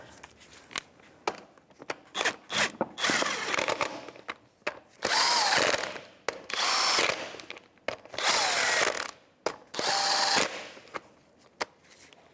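A power tool with a 19mm socket tightens front wheel lug nuts on a 2002-2005 Ford Explorer, firing several loud, close rattling bursts separated by short pauses.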